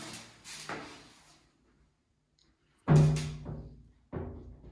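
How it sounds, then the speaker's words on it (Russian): A shower cabin door slides and bumps open with sharp knocks and rattles, a quiet pause between, then another clack and a short sliding sound. "Душевая кабина. Дверь открывается."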